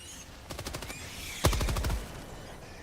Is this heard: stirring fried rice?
no